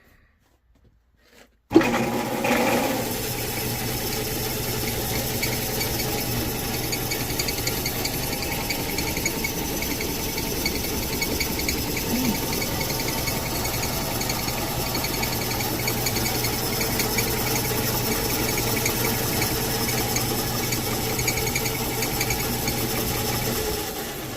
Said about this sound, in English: we're gonna flick the lathe on here, and with any luck it won't shake it like mad